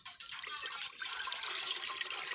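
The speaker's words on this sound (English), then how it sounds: "I'm going to pour water inside." Water pours steadily into super active detergent powder, a soft continuous splashing and trickling close by that holds for a couple of seconds with no talk.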